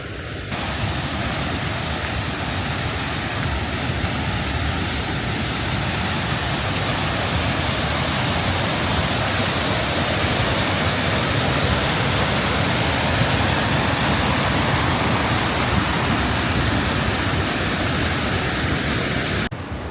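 Rifle Falls waterfall roars as a steady, dense, loud wash of falling water, constant and unbroken throughout with no voices.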